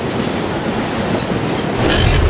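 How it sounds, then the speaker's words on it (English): A New York subway train roars loudly and steadily past, rails rumbling with faint wheel squeal and a brief surge of hiss near the end, with no voices. "In New York, new subway trains have been added."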